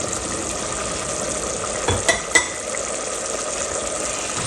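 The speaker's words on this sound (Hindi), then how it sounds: "अच्छी तरह मिक्स करते हैं।" Chicken with red chilli, coriander-cumin and garam masala stirred in a hot frying pan for Sindhi biryani, a continuous close sizzle with a few sharp scrapes and clinks of the spoon against the pan.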